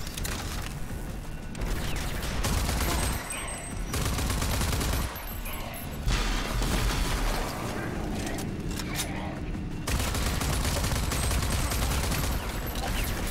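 Assault rifle fire in Rage 2 crackles in dense, sustained volleys broken by short pauses, with someone speaking over the shooting.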